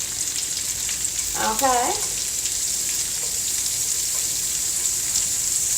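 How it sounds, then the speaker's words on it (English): Sliced bacon dropped into a hot pan sizzles and fries steadily, with a brief burst of clatter as it lands, while a voice speaks briefly over the cooking. "So we're just going to drop our sliced bacon in here."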